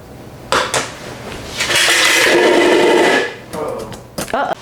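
A canning rack holding sealed jars of blueberry jam, lids and bands on, is handled with a few clattering metal-and-glass knocks and a sustained rattling scrape, close by, with speech around it.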